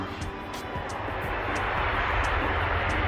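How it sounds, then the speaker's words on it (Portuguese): A loud, steady jet engine roar rumbles throughout, a sustained broadband drone with no talking over it. "Algum avião acabou de decolar."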